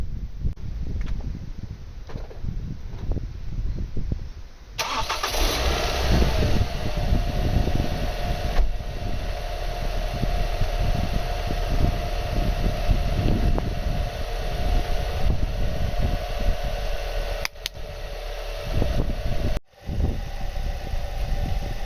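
A car engine starts after a few seconds of quiet, then idles steadily with a constant low drone and a brief cutout near the end.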